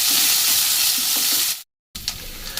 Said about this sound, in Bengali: একদম লো ফ্লেমে এগুলোকে ভেজে নিতে হবে।